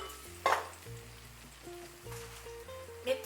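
Red wine and pomegranate juice with a sprig of rosemary boiling down in a pan for a Christmas sauce, giving a steady close bubbling sizzle with a couple of brief stirring clinks over soft background music, with no talking.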